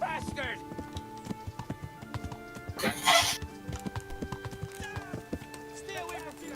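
Horse hooves clip-clop steadily in a medieval setting in Kingdom Come: Deliverance, a close rhythmic trot of many quick hoof strikes, with a brief neigh and people shouting over it.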